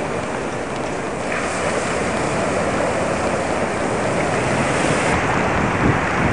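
Ocean surf rolls onto the shore at Myrtle Beach, South Carolina, in 1989 on a day of high waves: a steady, loud, broadband wash of breaking water with wind buffeting the microphone throughout, no voices.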